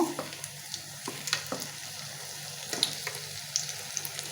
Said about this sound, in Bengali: এই যে আমি লাল লাল করে ভাইজা নিমু